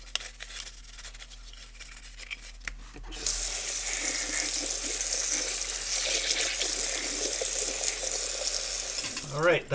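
Brass parts from a 1950s AGM KampLite LRL-21B lantern are washed under running tap water with soap. Quiet handling clatter comes first, then a steady, close rush of water into a sink with small scrubbing sounds.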